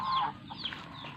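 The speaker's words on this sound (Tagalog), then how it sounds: "Ayan yung mga chicken. And may gansa." Chickens clucking in a rural yard in Naic, Cavite, where geese are also kept: a few short, quiet clucks in a brief burst.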